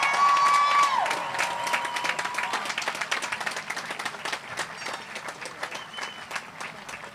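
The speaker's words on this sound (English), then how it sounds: "Let's have one more big round of applause for the class of" A large graduation audience at the Westford Academy Class of 2018 ceremony applauds steadily and densely, the clapping fading gradually over several seconds with a brief tone at the start.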